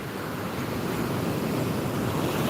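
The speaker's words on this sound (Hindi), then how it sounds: "देखो देखो देखो समुद्र का लहरें" Sea waves wash onto the shore in a steady, loud roar of surf with wind buffeting the microphone, continuous and close, with no talk.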